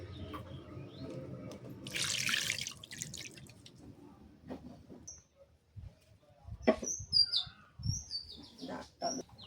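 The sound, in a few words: water being added to a cooking curry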